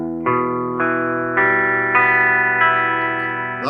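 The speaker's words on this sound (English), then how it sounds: "can also pick the notes separately, so pick the strings one at a time." Notes of a beginner guitar chord picked one string at a time on an electric guitar with effects, each new note struck in steady succession and left ringing over the others.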